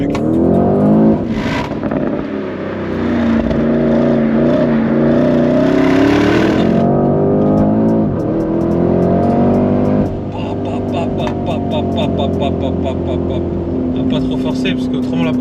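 A Porsche Cayenne Turbo GT accelerates hard, its engine note climbing loud and close through rising gear pulls with a shift partway, while someone talks over the roar.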